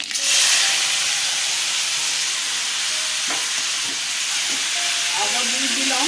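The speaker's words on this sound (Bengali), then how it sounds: "টমেটো ছেড়ে দিলাম।" Tomatoes drop into hot refined oil already spiced with dried red chillies and mustard seeds, giving a steady loud sizzle and hiss with a few stirring scrapes.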